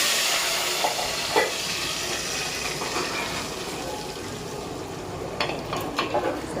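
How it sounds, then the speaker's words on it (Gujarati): Hot oil sizzles steadily with a crackling hiss, punctuated by a few sharper spits and pops near the end as spices hit the pan. "વઘાર થાય છે"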